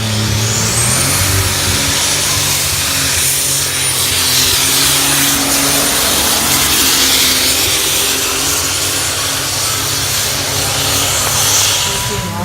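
A John Deere pulling tractor at a fair tractor pull roars loudly and continuously, its heavy engine droning with a rising whine, while an announcer's voice carries over it.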